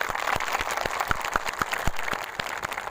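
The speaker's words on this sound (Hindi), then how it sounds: "सबसे पहले जोरदार तालियां हो जाए" Applause from a crowd gathered at a protest against a hijab ban in Manimajra, Chandigarh, with dense irregular claps rising and falling over about three seconds, fairly loud and close.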